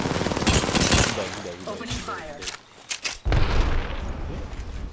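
Automatic weapon fire in the video game Apex Legends, loud rapid bursts of gunshots with a short lull and renewed firing, mixed with a character voice speaking over the action.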